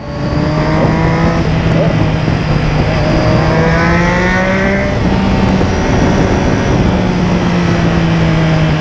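A stripped-down MV Agusta F3 800 motorcycle engine revs loudly and close, its steady drone climbing in pitch through sweeping rises and falls with no break.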